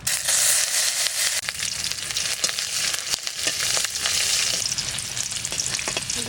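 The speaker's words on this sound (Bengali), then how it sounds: "ফোড়ন দেব সর্ষের তেল, শুকনো লঙ্কা আর রসুন ফোড়ন দেব।" Garlic and dried red chillies crackle and sizzle in hot mustard oil, a dense, loud, continuous frying hiss with scattered sharp pops and brief stirring scrapes, no voices.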